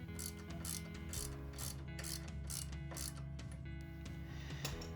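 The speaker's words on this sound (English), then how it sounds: "the ratchet with the shorter extension and 17mm socket is more convenient" Ratchet fitted with a short extension and 17mm socket loosening a car's sway bar link lock nut: a steady, close run of rapid metallic clicking that keeps going for about five seconds with no talk.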